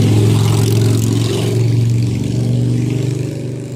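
A Honda K20 four-cylinder engine in an Acura RSX running at steady idle, close and loud, with a continuous low throbbing drone and no voices.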